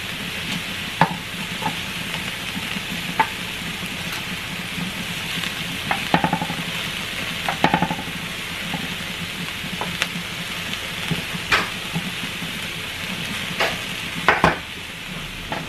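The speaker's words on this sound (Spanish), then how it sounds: "Los chiles ya se asaron, esos ya los voy a retirar de aquí para que no se vayan a quemar" Chiles and garlic roast in a hot pan for a molcajete red chile salsa, giving a soft continuous sizzle broken by occasional taps and scrapes as they are turned, close and moderate in level.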